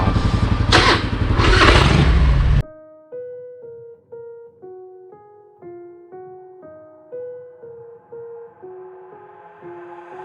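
A Harley-Davidson FLSTC Heritage trike gives a loud, rough engine roar for a couple of seconds. It cuts off abruptly and melodic music follows.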